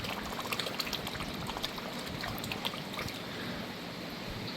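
Water flows and drops steadily into an indoor garden pond, a continuous close trickling and splashing with small droplet accents and no talk.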